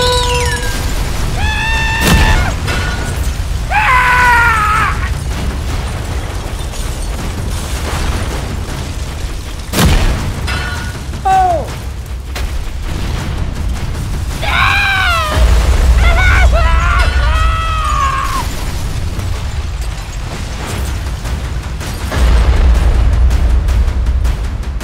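In the City Cars Fire Rescue driving game, fire and explosions go off on a city street as booming blasts and bursts mixed with whooshing effects and siren-like tones, loud and busy, with voices heard.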